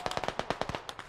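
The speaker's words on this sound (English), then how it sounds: "That warrior's cracking off shots now, careful." A fast burst of sharp gunshots in a tactical squad shooter, about a dozen cracks in quick rhythm, moderately close and punchy, with no talking over them.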